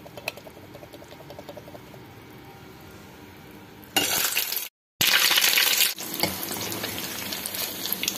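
Strips of savory French toast crackle and bubble in hot frying oil, a soft hiss that swells louder midway, briefly cuts out, then keeps frying steadily.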